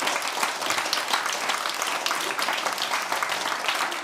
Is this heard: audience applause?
yes